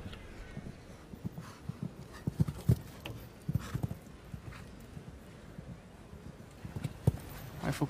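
A show jumper at the Aachen 2016 Grand Prix labours over the course, with irregular hoofbeats, thumps and snorting effort close by over a low, steady arena murmur.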